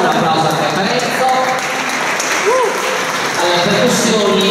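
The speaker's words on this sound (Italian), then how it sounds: "un applauso alla chitarra Cecilia Enzo" An audience at a church choir concert applauds the guitarist with dense, steady clapping, while an announcer's voice carries faintly over it.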